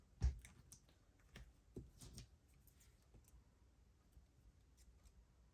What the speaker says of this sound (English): So what I'm going to do is actually cut this box.